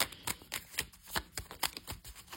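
A tarot card is drawn from the deck, giving a quick series of crisp papery flicks and slides, close and fairly quiet, with a faint steady tone behind.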